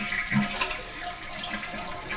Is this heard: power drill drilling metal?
no